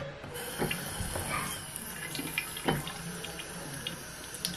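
Tap water runs from a faucet in a bathroom onto a pregnancy test, a steady close hiss with small splashing variations.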